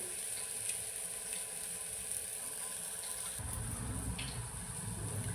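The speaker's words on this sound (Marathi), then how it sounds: "बाजूने पण आपण व्यवस्थित असं खरपूस खरपूस मस्त फ्राय करून घ्यायचं आहे" Brinjal (eggplant) slices frying crisply in a pan give off a steady, even sizzle with a soft hiss throughout, and the texture thickens and grows louder partway through.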